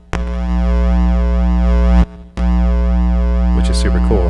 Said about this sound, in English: as you can hear, it sounds like a synth